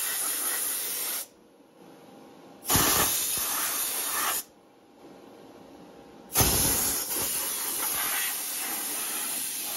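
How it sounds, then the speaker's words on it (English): An air compressor at about 120 PSI blows dust out of a portable hobby airbrush paint booth, producing loud sustained hissing blasts that stop and restart, with quieter gaps between bursts. "All I need to do is blow the dust off and make it go back there."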